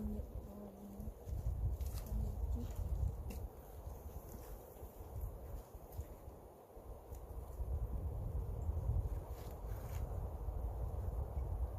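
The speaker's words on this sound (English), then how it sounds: "it's windy today" Steady wind blustering across the microphone beside beehives, a low rumbling roar that swells and eases throughout, with faint scattered knocks beneath it.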